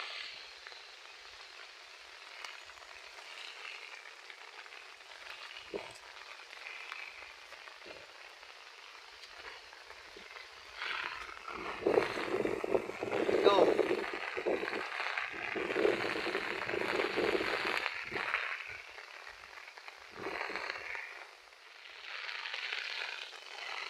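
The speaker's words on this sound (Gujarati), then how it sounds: "એવો વરસાદ અને પવન છે ભાઈ જો" Heavy rain lashes a groundnut field in Keshod, Junagadh, a steady hiss with gusting wind that swells louder toward the middle and again near the end.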